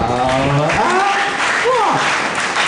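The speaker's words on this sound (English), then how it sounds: "Mr. and Mrs. Ezra Raphael, clap for them, clap for them" Applause from guests at a Nigerian engagement ceremony as a couple arrives, clapping mixed with a voice and music in a busy, loud hall.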